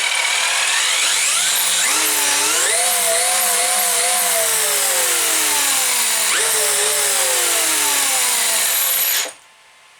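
An RC electric motor driven by an FVT Wolf 200A ESC whines at full throttle, its pitch sweeping up and wavering steadily, loud and close, before cutting off abruptly near the end.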